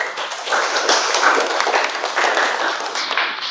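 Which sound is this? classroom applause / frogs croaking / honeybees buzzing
classroom applause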